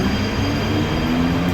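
A Mumbai local train rolls past on a rainy day, a steady, loud rumble of wheels and carriages that fills the whole short stretch without a break.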